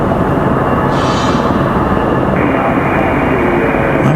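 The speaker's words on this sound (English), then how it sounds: "Set of Apaches. 3 of them touching down, taxiing in over here for some reason." Aircraft engine noise at Raleigh-Durham International Airport as three Apache helicopters touch down and taxi, a steady, loud broadband rumble throughout with a higher whine shifting partway through.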